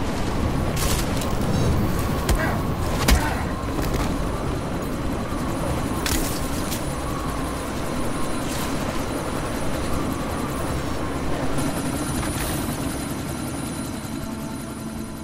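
A helicopter in the video game Deus Ex: Mankind Divided, heard as a loud, steady rotor and engine drone during a sandstorm, with occasional sharp bursts and impacts over it.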